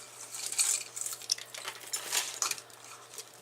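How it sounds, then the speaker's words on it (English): A set of two bowls, one small and one larger, handled with repeated light clinks and knocks of ceramic or glass, close and fairly quiet with no talking. "I got these. It's a set of bowls. There's two of them."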